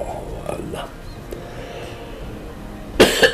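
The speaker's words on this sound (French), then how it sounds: "Je tousse." A single person coughs, with a short harsh burst near the start and another sharp, loud cough at the end; speech is present in between.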